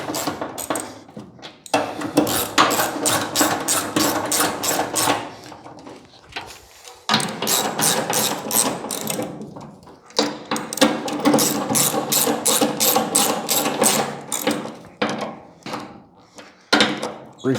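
A ratchet tightens the door hinge bolts on a 1940 Ford-inspired hot rod: loud, rapid bursts of pawl clicking close by, broken by short pauses, with no talking.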